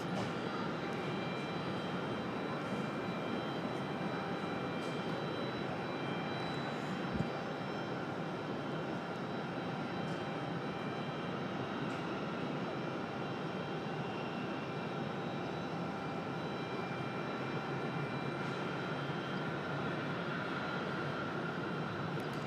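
A jet airliner takes off from a runway at Raleigh-Durham airport, its engines giving a steady, distant roar and whine that holds throughout.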